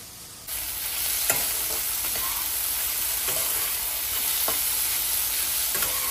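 A spice paste is stirred into masala pulav cooking in a pan, with a constant oil sizzle and several scraping strokes of a spoon against the pan, close and steady, with no speech.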